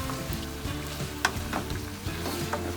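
Steady sizzling and bubbling from chicken caldereta stew boiling in a pan on the stove, with occasional clinks and crackles, fairly close and continuous.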